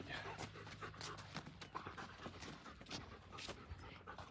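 A dog pants steadily in quick, rhythmic breaths during an outdoor walk in Long Beach, close and fairly faint, with a little background noise and footsteps.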